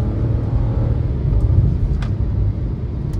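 A 2023 Chevrolet Montana Premier pickup with a 1.2 turbo engine accelerates hard, its engine rumble loud and close, swelling then holding steady, with a couple of faint clicks and no talk.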